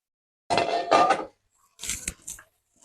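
A metal lid comes off a pan of idiyappam kothu, a home-cooked string-hopper and vegetable stir-fry: a short clatter and scrape, a pause, then a few lighter clinks and knocks close by.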